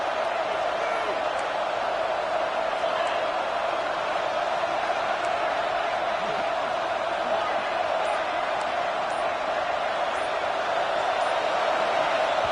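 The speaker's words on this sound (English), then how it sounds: "with this place rocking, the crowd forces a false start" A football stadium crowd roars in a dense, unbroken wall of noise for the whole stretch, loud and steady with no clear voices standing out.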